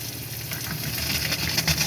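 Hot water gushes from a caravan tap in a steady, hissing rush with slight sputtering from air in the system, close and continuous.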